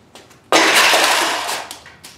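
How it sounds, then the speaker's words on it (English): Console clone smashed on the ground, a sudden loud crash with a burst of breaking and clattering fragments that fades over a second or two, preceded by a couple of faint knocks. "I'll be smashing this on the ground because, you know, why not?"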